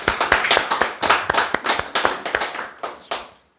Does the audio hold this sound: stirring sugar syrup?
no